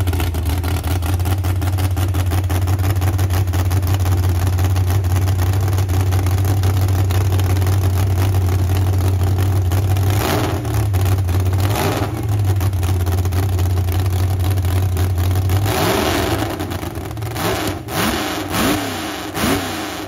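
A Gremlin burnout car with a Mopar engine, tunnel ram, two four-barrel carburetors, alcohol fuel and tractor-pull headers idles loud and lumpy up close, then blips its throttle in several sharp revs toward the end.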